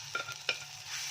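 Ground spice paste sautéing in hot tempering oil with cloves, a soft continuous sizzle broken by two quick stirring scrapes, close and fairly quiet.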